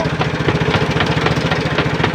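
A close, loud motorboat engine chugs with a steady, rapid knocking rhythm, running continuously throughout.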